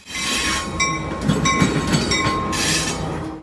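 A mixed manifest freight train with Union Pacific locomotives rumbles past close by in Elkhart, Indiana, with a steady roar, clattering wheels and bright metallic ringing tones of the locomotive bell over the noise.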